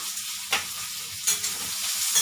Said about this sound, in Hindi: इसे अच्छे से फ्राई कर देंगे।